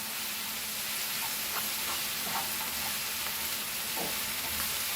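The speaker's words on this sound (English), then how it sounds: "Fry this nicely." Chicken kheema (minced chicken) sizzles steadily in a pan, a continuous frying hiss with occasional soft stirring pops, close and moderately loud with no voices.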